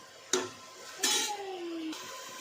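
Tomatoes sautéing in a pan for a chicken gravy: a close clatter of a utensil against the pan, three distinct scraping strokes separated by brief pauses, with a light sizzle and a ringing metallic tone.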